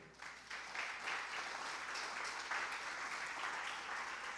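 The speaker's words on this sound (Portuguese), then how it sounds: "Vamos aplaudir o Senhor?" A church congregation applauds together at a fairly low level, a soft, continuous wash of clapping that swells slightly after the start and holds steady.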